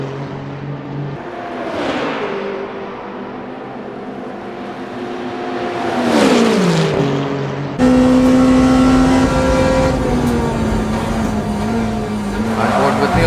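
Race cars in the Le Mans Ultimate video game, a Ferrari running close behind a Porsche through a chicane on the Mulsanne straight: loud engine drones rise and fall with gear changes and passing sweeps, with a brief tyre squeal.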